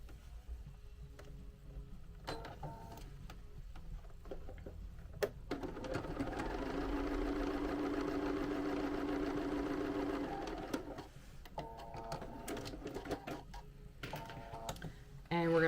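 A sewing machine stitches closed the casing on a sweatshirt, with short bursts of rapid ticking stitches at first and then one longer steady run in the middle, followed by more brief stop-start bursts.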